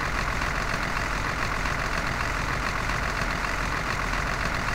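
A steady, rumbling tank engine idles without pause in a video game set at the Wolf's Lair in 1944, a dense mechanical drone with a faint knocking texture throughout.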